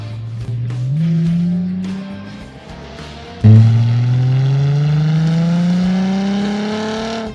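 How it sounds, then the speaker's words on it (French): Ford Mustang MK5 with a 4.0-litre V6 and its exhaust valves opened, idling and then revving loudly up through a sustained, rising engine note close to the listener. "la simple pression d'un petit bouton sur une télécommande me permet d'ouvrir les valves. Et puis alors là, on se souvient qu'on a un V6 de 4 litres sous le capot"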